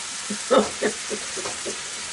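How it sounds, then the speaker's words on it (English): Soft crackling sizzle with a few brief pops as meat fries in a pan, quiet and close with no voices. "I hear the sizzle."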